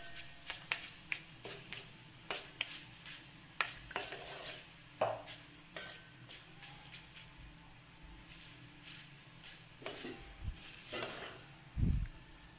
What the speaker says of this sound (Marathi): तर दोन मिनटं आपण याला हलवत राहूयात